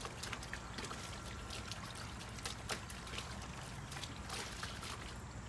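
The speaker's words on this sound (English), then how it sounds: "you gotta pour that in the bucket" Water poured from a 5-gallon pail into a bucket during a hand-washing clothes routine, a faint, steady trickling and splashing that runs continuously and quietly.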